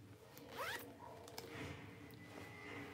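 Zipper on the large inner pocket of a black leather-trimmed Kenneth Cole tote being pulled, a quick close rasping zip followed by softer handling and fabric rustle, no talking.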